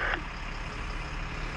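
An army truck's reversing beeper sounds briefly at the start, then a steady low engine rumble continues with no talking.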